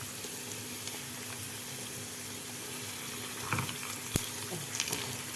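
Homemade potato chips frying in oil, a constant close hiss and crackle with a few light clinks of a utensil turning them near the end.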